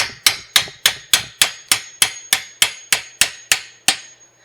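Twelve sharp, evenly spaced hammer blows ring out close and loud, beating a bicycle seat into place on a newly spray-painted bike, each strike followed by a short decay, with no talking.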